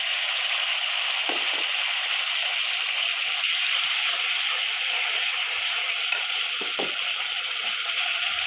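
Mustard paste sizzles steadily in a hot frying pan while okra paturi is being cooked, a constant bright hiss with a few faint clinks of stirring, no voices.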